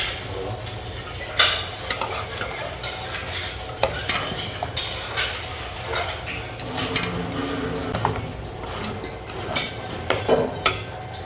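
A chicken and potato curry is stirred in a pan as tomato goes in, with a steady frying sizzle and scattered scrapes and clinks of a spoon against the metal pot.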